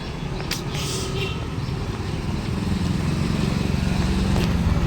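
A motorcycle ridden home at night after a college event, its steady engine drone and road rumble holding loud and close throughout, gradually building slightly, with no talking.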